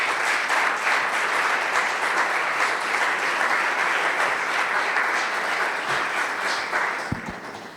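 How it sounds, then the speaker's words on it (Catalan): Sustained applause from an audience at a peace forum presentation in Barcelona, dense and steady clapping that fades slightly near the end. "Us demano un fort aplaudiment pel Josep Fèlix Bens."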